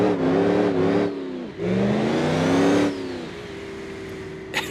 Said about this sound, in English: Let's launch it in all-wheel drive.